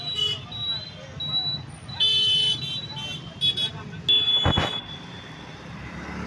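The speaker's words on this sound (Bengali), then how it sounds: "এটা হচ্ছে হাইওয়ে রোড।" Highway road traffic near a busy junction in Siliguri, with vehicles rumbling past steadily and several loud horn toots breaking through, one long blast standing out near the end, while people talk in the background.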